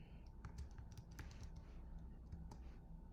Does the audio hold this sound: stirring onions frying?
no